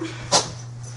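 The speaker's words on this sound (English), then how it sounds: "Oh, you sneezed. Bless you." A dog gives one short, sharp sneeze, a quick burst of breath at mid-volume, close by, against a steady low hum with no talking.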